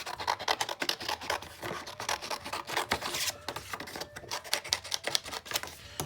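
Scissors cut a paper strip in half for a vintage shabby chic junk journal tea bag holder, a close, steady run of dry rasping snips and rustles with no talking.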